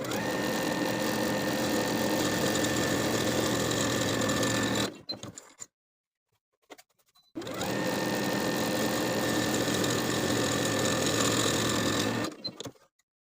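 A sewing machine stitches a 5/8 inch seam in two even, whirring runs of about five seconds each, separated by a short near-silent pause.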